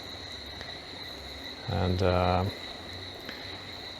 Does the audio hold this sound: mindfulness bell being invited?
no